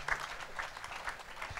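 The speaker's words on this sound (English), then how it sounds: "Clap your hands for Jesus Christ." A church congregation claps hands in an even rhythm, several loose claps per second, with a roomy, crowd-filled sound.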